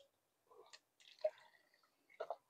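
About half a litre of water is poured into a container to dissolve urea. It comes as faint, intermittent trickles and drips, close and quiet, with short pauses between pours.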